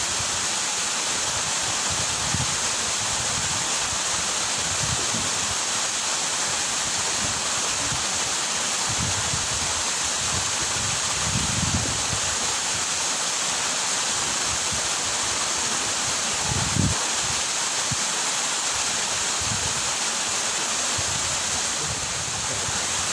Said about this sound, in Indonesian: ingin menikmati betapa enaknya mandi di air terjun Ketambe ini